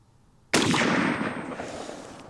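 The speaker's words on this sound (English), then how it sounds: "The report and the recoil tells me that it has good velocity" A single loud shot from a Zastava ZPAP M70 AK-47 rifle with walnut furniture, a sharp close crack after a brief quiet, followed by a long echoing decay outdoors.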